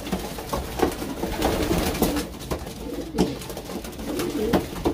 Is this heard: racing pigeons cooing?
yes